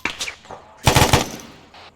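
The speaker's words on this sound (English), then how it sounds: "he's shooting at me" Machine gun fire in a military squad video game: a quick burst of several close, loud rapid shots, with a few fainter single pops before it and one after.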